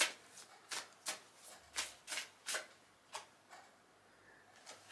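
Tarot cards are shuffled by hand in a series of quick, crisp riffling flutters, about a dozen short bursts spaced irregularly and heard close and clear in a quiet room.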